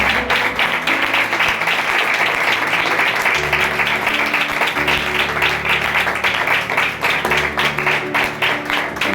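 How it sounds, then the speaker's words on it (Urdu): Loud, sustained applause from a church congregation honouring Jesus during a sermon, dense clapping filling the room throughout with a faint low hum beneath. "زور کا تالی بجاتے رہیے"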